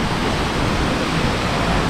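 A waterfall in Barili, Cebu, gives a loud, steady, broadband roar of rushing water, close and constant, with no talk.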